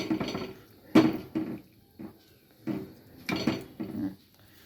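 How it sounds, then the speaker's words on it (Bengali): A metal lid set onto a cooking pot of cauliflower curry clanks several times in quick, uneven knocks, close and clear with no talk. "এবার এটাকে আমি ঢেকে দিয়ে সেদ্ধ হতে সময় দেব"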